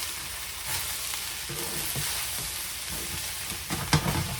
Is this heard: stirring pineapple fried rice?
yes